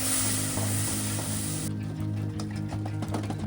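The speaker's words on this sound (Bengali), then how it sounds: "দুধ দেওয়ার পরেও ক্রমাগত নাড়তে থাকতে হবে।" Moong dal halwa is stirred continuously in a pan after milk goes in, giving a steady loud sizzling, scraping texture with a constant low hum underneath and no talking.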